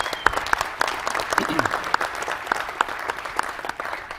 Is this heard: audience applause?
yes